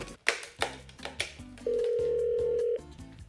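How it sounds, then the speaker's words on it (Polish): A toy Barbie telephone rings with a sustained electronic tone for about a second, preceded by a series of short beeping button tones and clicks, close and clear. "Zadzwonię do Barbie"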